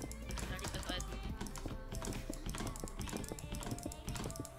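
Computer keyboard typing during a competitive video game match, rapid dense clatter of keys with irregular bursts, close and continuous, while players talk over it.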